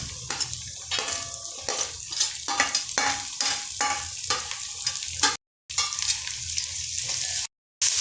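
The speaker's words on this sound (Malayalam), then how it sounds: "ഇനി നമുക്ക് സവാള അരിഞ്ഞ് വെച്ചത് ഇതിനകത്തോട്ടിടാം." Chopped onions sizzle and fry in hot oil with ginger and garlic for a biryani, with steady close crackling and occasional stirring scrapes of a utensil against the pan, no voices.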